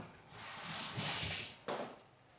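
Tap water runs steadily for hands being washed in a home kitchen while making dry meatballs, a hissing splash lasting about a second and a half before a brief bump and a fading trickle, close and alone.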